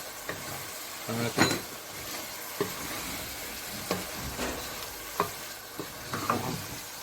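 Okra stirred into a dhaba-style masala in a hot pan, frying with a steady sizzle under scattered scrapes and clacks of a spoon, close and fairly quiet throughout.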